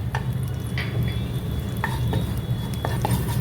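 Shahi jeera seeds frying in hot oil in a pan for mushroom masala, a steady close sizzle with a few sharp spoon clicks and scrapes against the pan, no talking.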